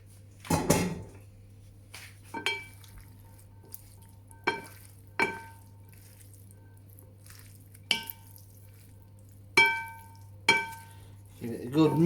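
Sporadic clinks and scrapes of a utensil against a pan over a low steady hum, with a heavier clatter at the start as spaghetti goes in for seafood pasta.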